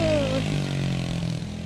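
A Sunl SLA 90cc Chinese four-wheeler rides through woods, its small engine a steady, buzzing drone heard up close for a brief moment.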